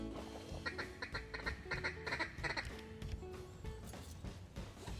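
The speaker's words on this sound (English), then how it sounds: "it doesn't hurt to have mallards in the hole" Mallard ducks quack in repeated bursts at a flooded hunting hole in Arkansas on a Christmas Day duck hunt, a busy chorus of nasal calls fairly close, with no talking.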